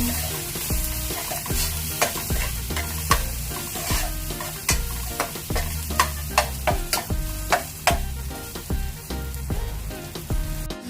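Bean sprouts and tofu sauté in a pan, seasoned with salt, while a utensil stirs them in quick, rhythmic scrapes and taps over a constant loud sizzle.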